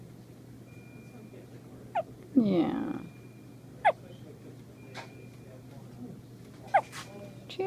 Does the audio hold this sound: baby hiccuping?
yes